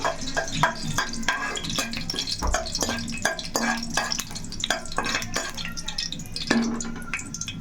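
Cinnamon and cloves frying in oil in a pan for gongura prawn curry: a steady close sizzle with repeated scraping and clinking from stirring, fairly loud throughout.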